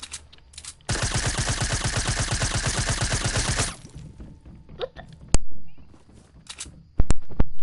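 Automatic gunfire in the Fortnite video game, a loud sustained rapid burst of about three seconds followed by scattered single shots and impacts.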